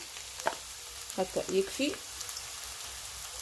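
Onions sizzling in a good quantity of oil in a pan, a soft steady fry heard under a short spoken phrase and a few faint knocks.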